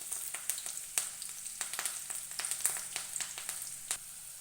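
Sliced onions hitting hot oil in a pan for a Kerala carrot thoran, a light crackling sizzle with scattered sharp pops and spits, fairly close and with no voices.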